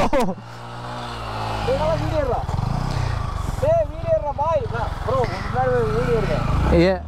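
A motorcycle stuck in river mud runs with a loud, close, sputtering engine drone, while several people shout and talk excitedly over it almost the whole time.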